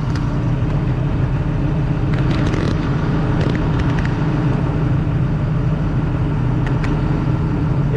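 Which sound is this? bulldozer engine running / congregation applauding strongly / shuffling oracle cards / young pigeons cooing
bulldozer engine running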